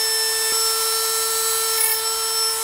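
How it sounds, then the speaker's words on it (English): Milwaukee cordless rotary tool spinning at high speed while trimming, a steady piercing whine with strong tonal harmonics held at constant loudness throughout, close by, with no speech. "that's why I have this rotary tool"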